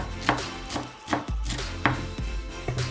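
A knife chops parsley on a cutting board in a few quick, uneven strokes with short pauses, close and crisp, no voices.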